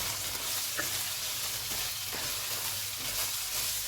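Minced meat frying with garam masala and green chilies for keema biryani, a steady close sizzle with occasional scrapes and knocks of a spoon stirring the pan, no voices.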